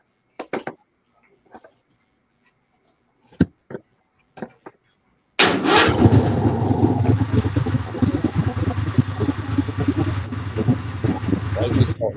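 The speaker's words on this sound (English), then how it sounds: "actually starting the engine." A few sharp clicks and knocks break near-silence, then a small engine bursts into life and keeps running loud and steady to the end.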